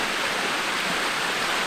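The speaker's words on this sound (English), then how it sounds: "A waterfall, kind of step waterfall thingy." Steady rushing water from a stepped waterfall in a park on São Miguel, Azores, a dense broadband hiss that stays constant throughout with no voices.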